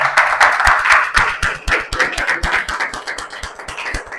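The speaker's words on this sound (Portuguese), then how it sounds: "Aplauda Jesus por esta palavra." A church congregation claps together in a loud, steady burst of applause with dense rhythmic hand claps, close and continuous, no talking over it.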